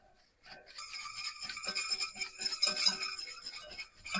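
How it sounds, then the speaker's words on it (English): A whisk scraping and clinking against a pan as butter is worked pat by pat into a bourbon-pecan chicken sauce, a close, fairly quiet run of rapid rhythmic metallic strokes. "I'm just going to be adding butter and combining it"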